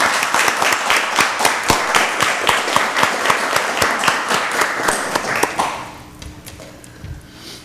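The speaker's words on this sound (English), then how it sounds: "Let's give her another round of applause." Applause at a county board of commissioners meeting: steady rhythmic clapping from a small crowd for about six seconds, then tapering off into quieter room noise, no talk over it.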